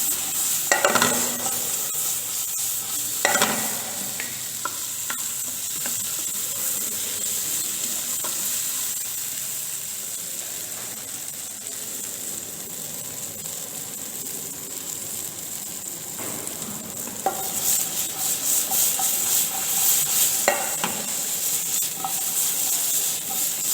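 Potatoes sizzle loudly in a pan while being stirred and mixed, a continuous bright frying hiss broken by occasional scraping strokes of the utensil, with no talking.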